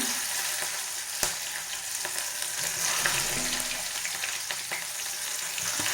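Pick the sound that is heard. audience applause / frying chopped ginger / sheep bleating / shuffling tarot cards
frying chopped ginger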